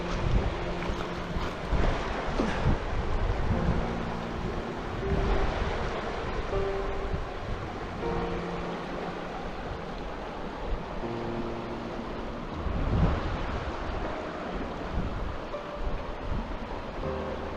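Sea water surges through a gap in rocks and concrete lumps at the water's edge on Hayling Island, waves rushing and washing in repeated swells under gusty wind buffeting the microphone.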